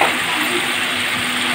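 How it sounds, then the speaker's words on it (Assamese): Steady, loud sizzle of small potatoes frying together with chicken pieces in hot oil for a village-style chicken curry, a continuous hiss filling the whole moment with no voices. "মাংসৰ লগতে ভাজি ল'ম"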